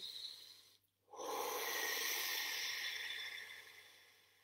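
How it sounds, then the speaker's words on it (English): A person breathing deeply and slowly during a guided relaxation exercise: one long, soft, airy breath after a short pause, close and steady with no talking. "Keep breathing deep and slow."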